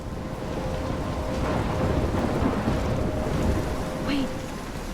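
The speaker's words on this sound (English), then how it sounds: "I'm trapped in a storm." Thunderstorm in the video game Life Is Strange: steady heavy rain hiss with low rolling thunder swelling through the middle, and a faint distant rumble trailing toward the end, with no talking.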